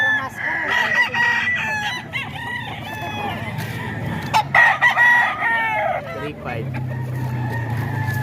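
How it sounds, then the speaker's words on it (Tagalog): Roosters crow repeatedly at a Bocaue poultry market, several loud drawn-out calls overlapping with clucking fowl, a steady low hum of market noise and distant traffic underneath. "Manok naman to ni Boss Randy."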